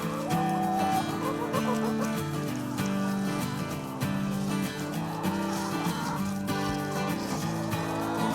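One-week-old Cornish cross meat chicks peep and chirp continuously in a brooder, a busy chorus of high, steady cheeping over a low background hum.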